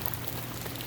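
Steady rain pours down at a flooded campsite, a dense, even hiss of drops hitting wet ground and surfaces, close and constant for the whole second with no voices.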